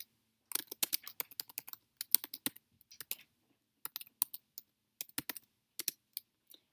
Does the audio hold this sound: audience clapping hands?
no